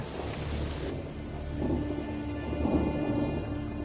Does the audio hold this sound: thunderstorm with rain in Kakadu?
yes